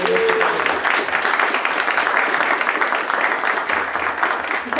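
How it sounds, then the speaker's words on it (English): Sustained, even applause from an audience after an arts panel discussion, a dense wash of clapping holding steady for nearly five seconds. "Let's give a round of applause for attending this."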